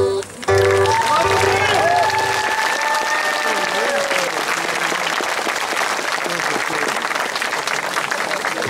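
An audience at an open song festival breaks into loud applause as a sung melody with accompaniment fades out, the clapping swelling quickly and then holding steady and dense, with a few voices and cheers mixed in.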